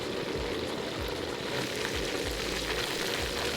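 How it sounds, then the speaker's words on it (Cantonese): A chicken head fries in hot oil in a wok at about 212°F, giving a continuous soft sizzle and bubbling hiss, with a low, rhythmic rumble repeating underneath. "Now, we'll quickly fry our chicken head, also at around 212 degrees Fahrenheit for just 4 minutes."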